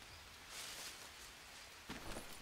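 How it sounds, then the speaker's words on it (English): Rain falling in the survival video game Green Hell, a soft, even hiss that swells slightly partway through, heard quietly and with no talking. "Yep, it's raining, so all these bowls are full, which is awesome."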